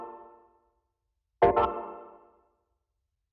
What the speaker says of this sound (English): The first sound that we have here is the stab